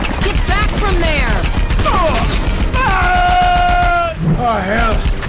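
Panauan military gunfire and flak in Just Cause 2, with bursts of shots and sharp impacts clattering under loud game sound effects and a character's voice, close and busy throughout.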